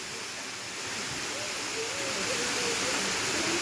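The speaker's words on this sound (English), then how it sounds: "These are waterfalls in Marinka, Colombia, right next to a city called Minca." Waterfalls near Minca in Marinka, Colombia pour in a constant broad rushing hiss that swells slightly, steady and enveloping with no pauses.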